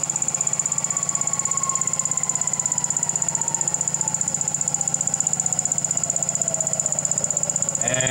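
A Brewer Science 100 spin coater winds down toward a stop: a constant high whine with a tone that slowly falls in pitch, plus regular ticking pulses, with no talking.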